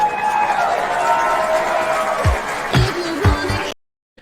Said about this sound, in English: Where is the round of applause button? It's here.